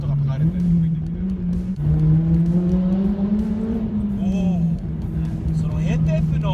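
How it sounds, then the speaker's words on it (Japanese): Honda Civic Type R FD2 with its VTEC engine revving hard above 5000 rpm inside a tunnel, a loud rising and falling engine note heard from the cabin, with occasional voices over it. "5000回転より上まで回してください。"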